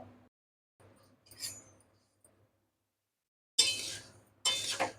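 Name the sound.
coriander seeds dropped into a hot wok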